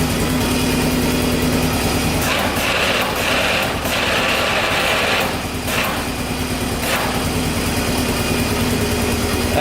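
A Polaris ATV fitted with a winch and snow plow runs steadily close by, its engine a dense, constant drone with slight rises and dips in revs and no one talking.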